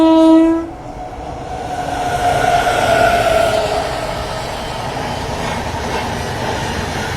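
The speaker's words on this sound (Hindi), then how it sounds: "उस तरफ कोई तो ट्रेन आ रही है" A train pulling into Chunar Junction railway station in India, opening with a loud horn blast and then a steady, heavy rumble of rolling wagons that fades slightly as it passes.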